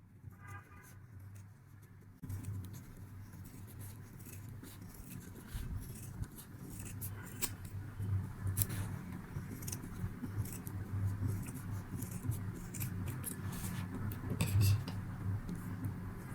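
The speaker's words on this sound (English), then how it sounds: "take a small piece of fabric and cut it into the shape of a heart" Scissors cut a small piece of fabric into a heart shape while patching jeans. The snips are faint and scattered over a steady background rumble, with no speech.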